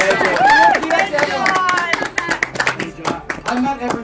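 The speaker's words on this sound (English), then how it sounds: "Give it a round of applause" Applause from a small group at a Survivor-style elimination, with brief scattered clapping and cheering, then someone talks as the clapping thins out.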